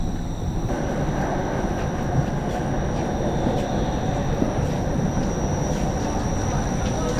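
A packed Toronto Eglinton Crosstown light rail train rolls along with a loud, steady rumble and rattle of wheels, a constant interior drone with faint high whine and occasional clanks throughout.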